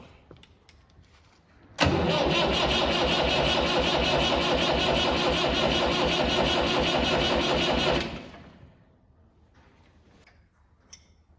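A Massey Ferguson 165 tractor diesel engine, just rebuilt and with air in the fuel system, is cranked in one loud sustained burst of about six seconds with a rapid rhythmic churn, then stops abruptly, leaving quiet background.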